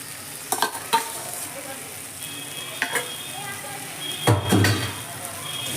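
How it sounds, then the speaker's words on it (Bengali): Chopped chicken skin and pre-fried potatoes sizzle steadily in a hot pan, broken by a few sharp scraping stirs and clinks of a spatula, close and fairly loud. "এবার আমি এর মধ্যে দিয়ে দিচ্ছি ভেজে রাখা আলু, আর আমি দিয়ে দেবো এবার চিকেনের স্কিনগুলো।"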